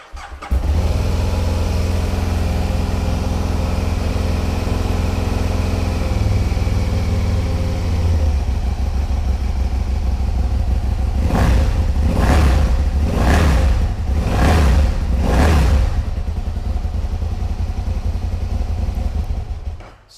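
An Aprilia Tuono 1000 Fighter streetfighter motorcycle fires up and settles into a loud, steady idle, then is blipped through several sharp throttle revs that rise and fall in quick succession before it drops back to a rumbling idle, with no talk.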